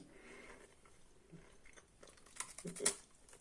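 Crunchy homemade chocolate and sesame cookie being bitten and chewed close to the mic, a series of crisp crunches growing louder toward the end, with no talking.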